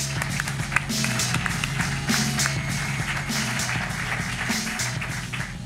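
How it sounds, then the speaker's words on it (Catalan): Live audience at a Catalan comedy podcast recording in a small venue applauding steadily, a dense patter of clapping hands sustained throughout with a few faint voices underneath. "Un aplaudiment"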